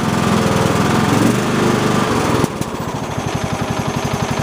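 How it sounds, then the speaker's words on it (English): Close-up drone of a Husqvarna YTH20K46 riding lawn mower engine running steadily, then its pitch drops sharply and it carries on in a lower, pulsing chug. "Engine's running okay."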